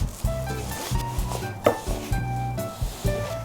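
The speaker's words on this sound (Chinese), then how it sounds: "取出之后用刀背碾碎备用" Steamed yolk is crushed with the back of a knife on a board, making a series of dull, irregular knocks and presses, close and fairly clear, with no talking.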